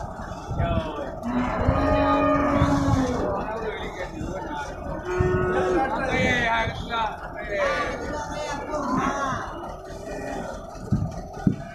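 Loud, drawn-out moos from jumbo cattle, nearly a ton each, repeat close by, several overlapping, amid a busy crowd and scraping noises as a cow is unloaded at a market show.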